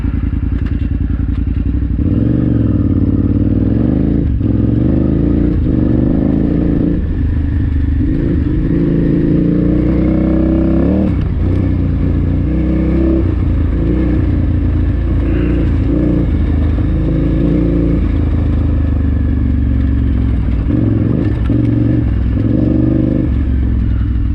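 A fuel-injected dual-sport motorcycle engine runs steadily at high altitude after a breakdown. The close, loud drone has rough clattering and small swells in revs throughout, and no voices are heard.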